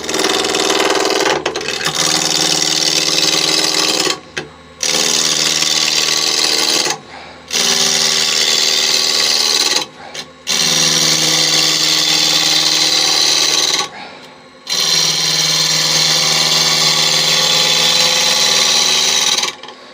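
A wood lathe turning a coin dish blank while a gouge rounds it off, loud continuous hissing and rasping cuts in five long passes separated by short quiet breaks.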